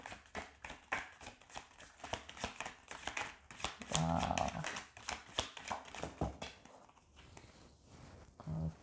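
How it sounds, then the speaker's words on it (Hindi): Tarot cards being shuffled by hand in a card-reading session, giving quiet close bursts of riffling, flicking and tapping with a brief soft voice partway through. "और कार्ड्स को आपके लिए लाइव शफल करती हूँ।"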